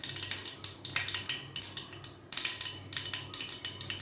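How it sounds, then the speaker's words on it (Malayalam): Mustard seeds sputter and pop in hot oil while pork roast is being prepared, a close run of crackling bursts in uneven clusters with sharper flurries in between. "കടുക് പൊട്ടി വന്നിട്ടുണ്ട്"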